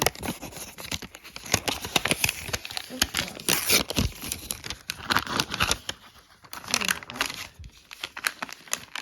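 Plastic packaging crinkles and tears as an advent calendar package is opened, with bursts of crumpling and rustling close up and a brief quieter pause partway through.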